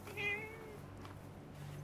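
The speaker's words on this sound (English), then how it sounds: "A cat." A single short cat meow in the video game Forspoken, quiet and brief over a low background hum, with no talking.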